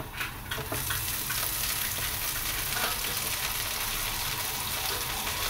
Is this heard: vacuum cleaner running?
no